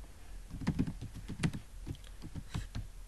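Someone types an SQL query on a computer keyboard in a quiet room, a short run of soft, irregular keystroke clicks at close range with no talk over them.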